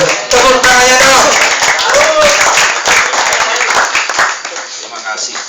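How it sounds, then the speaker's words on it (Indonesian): Audience members clap loudly after a talk at a security training session, a full burst of many hands with some voices mixed in, gradually thinning toward the end. "Tepuk tangannya dong."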